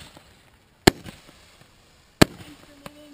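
Costco firework cakes fire two sharp, loud bursts outdoors about a second apart, with faint crackle and a low hum between them.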